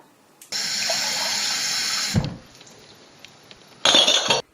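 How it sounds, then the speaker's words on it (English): Tap water pours into glass jars for a flower arrangement, a steady filling rush broken by a brief clink and pause, then a second short burst of running water. "So my first job is to fill these with water."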